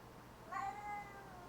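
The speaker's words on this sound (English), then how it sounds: "No, just caterwauling." A pet cat indoors gives one clear, drawn-out caterwauling meow in the middle, moderately close, against a low steady hum.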